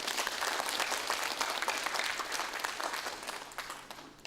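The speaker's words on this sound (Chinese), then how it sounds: "我们希望大家用热烈的掌声来谢谢洪博士" Audience at a lecture applauding, a dense, steady round of clapping from the crowd that holds for about four seconds and fades slightly at the end.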